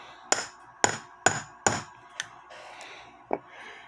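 A hammer tapping a socket to seat the cap of a clock barrel: four sharp metallic taps at a steady pace, then a few lighter ones, close and clear with no talk.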